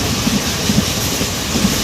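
A train runs steadily on the rails just past Vriddhachalam railway station, giving a loud, continuous rumbling roar with faint rhythmic clicking from the wheels and no voices.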